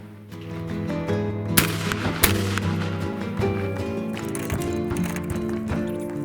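A shotgun fires a reloaded shell outdoors, with two sharp loud reports close together against steady background hum and clatter.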